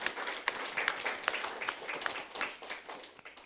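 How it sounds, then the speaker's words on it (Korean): Church congregation applauding together during a Korean sermon, a steady crowd of hand claps filling the room for a few seconds without speech. "이 같은 은혜를 주신 주님께 박수를 한번 보내드립시다."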